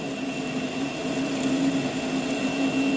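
Metal lathe parting off a workpiece at very low RPM, a steady even hum with a thin high whine held throughout, close and unchanging, with no talking.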